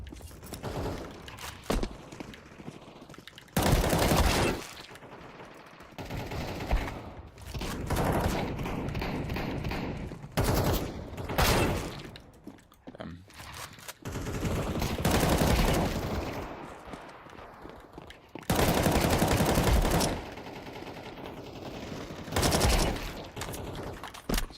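Bursts of Counter-Strike gunfire come in loud volleys, some sustained and some short, spread through the stretch with quieter gaps of footsteps and game noise between them.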